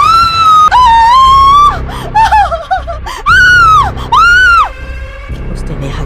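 A horror story features a loud, high-pitched scream sound effect: several piercing, wavering wails with brief pauses between them, close and intense, with gasping, laugh-like breaths mixed in.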